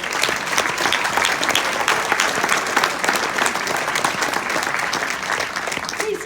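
A crowd at a Lincoln Day political dinner in Knox County applauds in a dense, sustained roar of clapping that holds at an even, loud level for the whole stretch.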